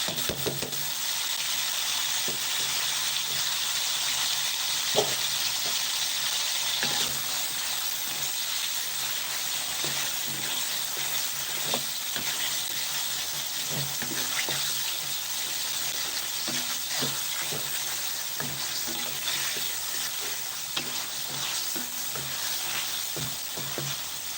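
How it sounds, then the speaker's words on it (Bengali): Shing fish stir-fried in a pan gives a steady, close sizzle and frying hiss, broken by frequent scraping and clicking stir strokes that continue throughout, with no voices. "আমি এভাবে হাইতে মাছটা কিছুক্ষণ কষিয়ে নিব"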